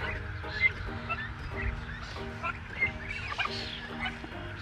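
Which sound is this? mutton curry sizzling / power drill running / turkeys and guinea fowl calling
turkeys and guinea fowl calling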